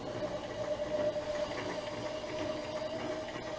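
A milling machine runs steadily after being accidentally left in gear, a continuous mechanical hum with a fixed whining tone over broadband motor noise, close and even throughout with no talking.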